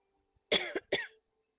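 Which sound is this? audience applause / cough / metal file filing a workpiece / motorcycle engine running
cough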